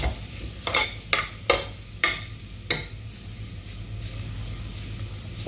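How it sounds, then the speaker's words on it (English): Chopped carrots and other vegetables fry in a pot for a one-pot vegan rice and lentil dinner. About six distinct scraping stirs come in an uneven rhythm over a low, steady sizzle and hum. "stir up the vegetables that I'm frying in"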